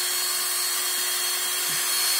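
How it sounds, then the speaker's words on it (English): A power drill spins a valve against grinding compound to lap it, giving a constant high, gritty whine that stays even and close throughout. "So I'm just going to town on this, letting the valve grinding compound take care of the high and low spots on that valve."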